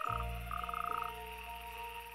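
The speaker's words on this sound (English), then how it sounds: "They will spend 1 or 2 weeks croaking, waiting for a continuous line of females to approach their noisy pond." Frogs croaking at a breeding pond: steady pulsed calls layered into a dense chorus, with a loud rapid trill standing out up close over a continuous background drone, no voices.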